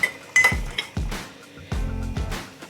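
A metal spoon clinks against a teapot and tea tin as two spoonfuls of loose tea go in, with several sharp ringing taps and scrapes in a close, quiet kitchen.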